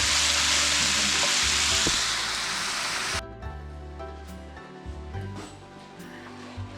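Sausage and onions frying in a pan, a loud dense sizzle for about three seconds that suddenly drops to a quieter, steady crackle with faint pops and a low hum underneath.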